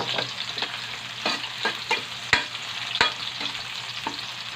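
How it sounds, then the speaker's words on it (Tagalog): Garlic and onion sautéing in a hot pan for chicken tinola, a steady close sizzle broken by several sharp scrape-and-stir strokes, no talking. "Gisa mo lang yan."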